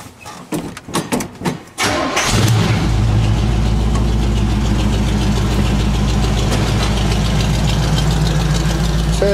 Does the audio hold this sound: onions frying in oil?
no